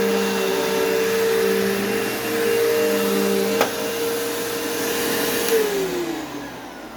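A Dirt Devil Swivel Glide upright vacuum cleaner runs loud and close with a steady whining motor drone that shifts pitch partway through as the load changes, with no talking.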